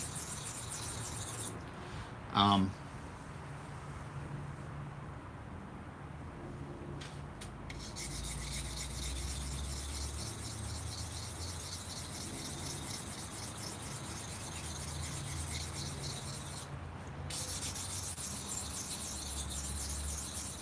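A Spyderco knife in HAP40 steel is drawn across a sharpening stone in a soft, steady, faint rasping scrape that continues for a long stretch. One brief sharper knock sounds near the start.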